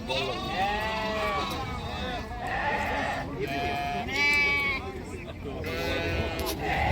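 At an outdoor sheep and goat market, a flock including male lambs gives a chorus of wavering bleats, several loud and close, others distant. Voices chatter in the background the whole time.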